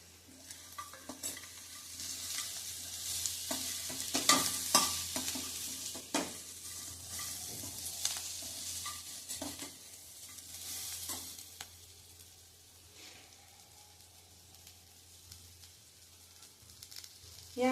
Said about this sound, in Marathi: आता मगाशी जे आपण खोबरं आणि दाणे तळून ठेवलेत ते घालणार आहे.